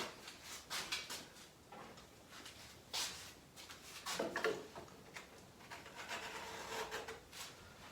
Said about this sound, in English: Just get rid of some of the excess glue that's here.